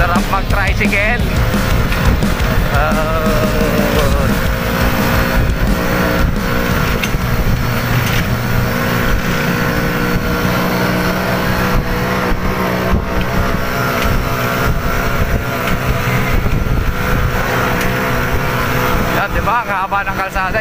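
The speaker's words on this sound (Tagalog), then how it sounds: "Sarap mag-tricycle." Motorized tricycle cruising along a long straight road in San Andres, Catanduanes, its engine a steady loud drone with wind rumble throughout, while people talk over it.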